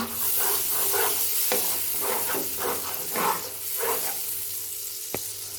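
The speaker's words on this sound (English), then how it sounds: "Adding ginger, onion and tomato paste. We will fry them." Ginger, onion and tomato paste frying in a pan, a loud close hissing sizzle with rhythmic stirring swishes and a couple of sharp utensil knocks, no talk.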